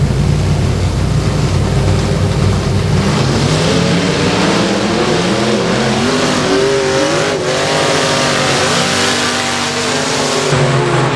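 Pro Mod race cars roar around a dirt speedway track during a heat race, a loud continuous engine drone with rising and falling revs as the pack passes close by.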